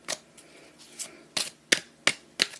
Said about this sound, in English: I need to get over my fear of shuffling this deck and just use it.